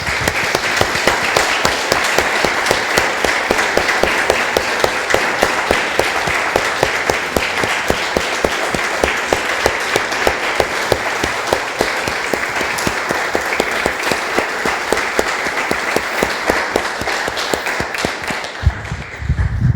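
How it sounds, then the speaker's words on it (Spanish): A church congregation applauds during a worship service, a long, loud, steady burst of many hands clapping that fades out near the end. "Damos un aplauso, hermanos, al Señor."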